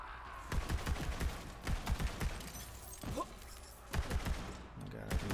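Video game gunfire rattles out in several rapid automatic bursts separated by short pauses, fairly close, with a voice speaking in between.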